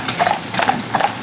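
Hooves of a pair of Friesian horses driven down a town road, a brisk, close rhythmic clip-clop with sharp repeated strikes and faint metallic jingles of harness.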